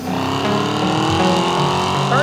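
American muscle car with a performance exhaust, a loud sustained engine roar with steady harmonic drone and a rising rev toward the end.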